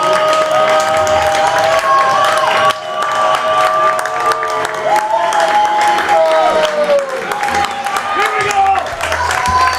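Home fans at a Lakeland high school football game against Mosinee roar and cheer on their feet during a late fourth-and-short, loud sustained crowd noise with whistles and shouts under a play-by-play announcer.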